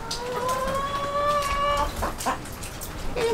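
Chickens cluck and squawk close by while feeding on sprouted grain from a feeder on a cold, wet day, with one drawn-out call followed by short clucks.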